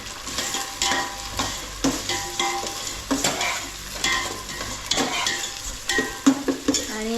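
Onions fry in a pan for pav bhaji as a pinch of asafoetida goes in, a steady sizzle broken by repeated scraping stirs and light clinks of a spoon against the pan, with no talking.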